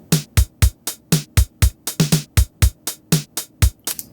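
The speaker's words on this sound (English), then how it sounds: "8 hi-hats across the top, snares on 2 and 4, kicks on 1." A programmed drum beat loops cleanly: steady eighth-note hi-hats over punchy kick drums on beat 1 and snappy snares on 2 and 4, loud and close, with no voices.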